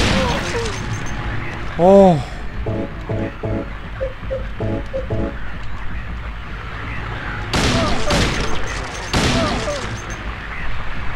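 Gunfire in the horror game Silent Hill 2, including shotgun blasts: two heavy, booming shots late on, preceded by a muffled in-game thud and beeping, with a voice briefly speaking.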